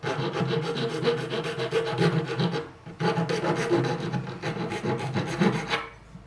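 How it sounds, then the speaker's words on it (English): A hand file rasping off a sharp metal corner, quick rhythmic back-and-forth strokes close up, with a brief pause midway before the scraping resumes, no talking. "So I'm just going to file the sharp corner off that"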